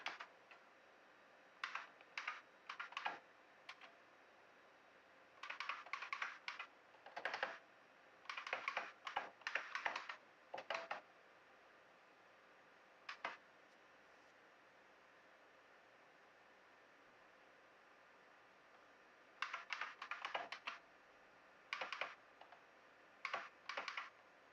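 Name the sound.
computer keyboard typing while looking things up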